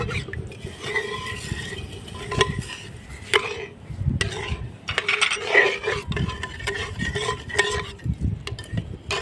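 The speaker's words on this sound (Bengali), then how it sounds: "সুন্দর করে নাড়তে থাকো, যাতে না লাগে" Semolina kheer mohan with cashews, sugar, bay leaf and crushed cardamom stirred in a pot, a spoon scraping and knocking against the metal in irregular clinks and scrapes, close and fairly quiet.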